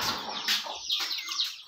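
Hens and their chicks cluck and cheep close by in a short, busy burst of overlapping calls, with soft, higher chirps mixed into the lower clucking.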